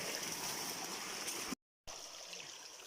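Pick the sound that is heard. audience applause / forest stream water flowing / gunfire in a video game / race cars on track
forest stream water flowing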